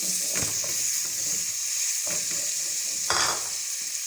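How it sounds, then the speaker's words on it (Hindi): Masala with tomatoes and green chillies frying in a pan for a tinda keema dish, a constant close sizzle with a few sharp scrapes of a spoon stirring, no speech. "मसाला यहाँ हमारा अच्छे से फ्राई हो गया है। अब हम इसमें टमाटोज को ऐड कर लेंगे।"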